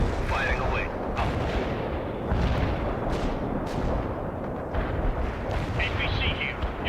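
Artillery strike in the real-time strategy game World in Conflict: continuous rumbling barrage of booming impacts and explosions with dense low-end roar, game radio voices briefly audible over the din.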